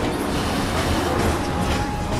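A train idles at a station in Final Fantasy VII Remake, giving a steady, loud rumble with a faint rail clatter that holds level throughout, with no voices over it.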